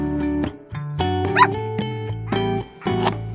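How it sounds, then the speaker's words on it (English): A dog barks and yips in a few short, harmonic bursts, close and fairly loud, with whimpering tones between the calls. "dog,"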